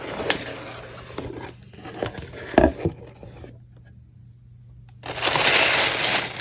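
A cardboard subscription box of nail products crinkles, scrapes and tears up close, with a sharp crack partway through, a quiet pause, then a rush of rustling packaging.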